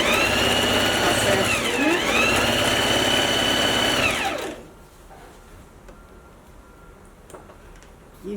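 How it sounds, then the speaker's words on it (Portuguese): Sewing machine stitching the side seam of a lined coat, a loud steady whirring run lasting about four seconds with a brief dip in speed midway, then stopping abruptly into quiet room tone. "E vamos costurando."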